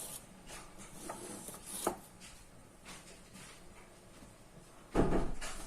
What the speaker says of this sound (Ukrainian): І ще горішки додавлю, волошські. Зараз подрібню їх трошки.